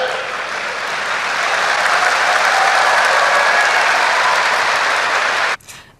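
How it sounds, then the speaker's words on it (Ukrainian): Studio audience applause on a talk show, dense steady clapping from a large crowd that holds loud and even for over five seconds before cutting off abruptly. "Чому аплодисменти?"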